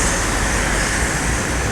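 TN Trans Hino RK8 R260 bus in congested traffic near a red light, a dense broadband roadway roar with engine rumble, steady and loud throughout the short stretch, no talking.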